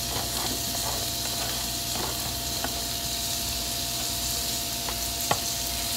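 Tomatoes, bell peppers and green onions fry in a pan for curry chickpeas with coconut, giving a steady close hiss and sizzle with a few sharp utensil clinks and stirring scrapes.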